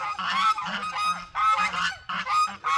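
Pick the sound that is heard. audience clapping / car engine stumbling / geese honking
geese honking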